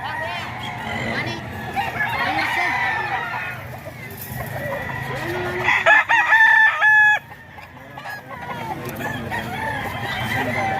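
Roosters from a seller's gamefowl flock crow at a bird market, one clear cock-a-doodle-doo rising midway over steady background chatter and clucking; people talk throughout.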